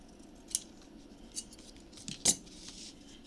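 Scissors trim paper for a memory book, giving a few quiet, close snips spaced out over a few seconds, with the crispest cut near the end.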